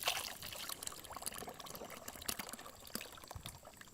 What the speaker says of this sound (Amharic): እስቲ ውሃን ጨምራለህ